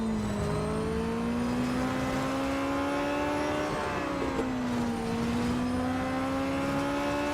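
Engine note of a Radical SR10 XXR race car in Real Racing 3, a steady whining rev that climbs, dips sharply around a shift or corner, then rises again, continuous and alone.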